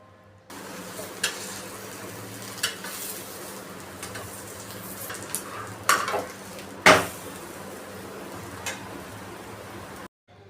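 Thalipeeth fries in small amounts of oil drizzled around its edges on a tawa, giving a steady low sizzle broken by a few sharp clinks and scrapes of a utensil against the pan.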